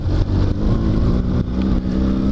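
An SMC Barossa quad bike engine revs loudly and close by, a rough, steady mechanical roar that dips briefly and then picks up again.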